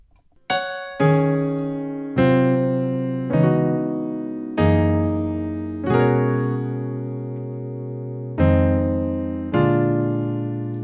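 Slow solo piano playing the second section of a song intro, eight sustained chords struck one at a time at a steady, unhurried pace, each ringing out and decaying before the next, close and clear with no voices.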